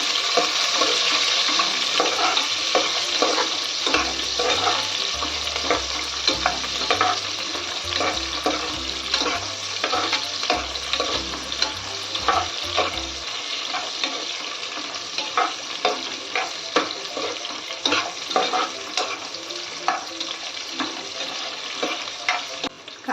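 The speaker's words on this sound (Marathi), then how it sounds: "यानंतर टाकायचं आहे सहा जिरं आता हे संपूर्ण चांगलं परतवून घेऊया" Onions and cumin seeds sautéing in hot oil in a pressure cooker for egg biryani, a steady bright sizzle with frequent scraping and stirring clatter, close and fairly loud, with a low rumble early on and no talk.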